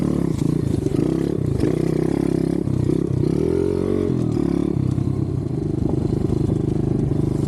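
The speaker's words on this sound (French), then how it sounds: "Je roule tout doucement et puis bon, je vais rouler, j'accélère pas forcément." A dirt bike engine runs steadily at low to moderate revs during a gentle break-in ride, close and loud with a rough, clattery tone and a brief rise and fall in pitch midway, with no talk.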